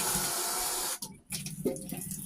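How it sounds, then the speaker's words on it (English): Tap water runs steadily into a cup while making salad dressing in a homestead kitchen, a continuous close hiss that cuts off briefly, then resumes more unevenly with small splashes. "And then you just add the smallest amount of water."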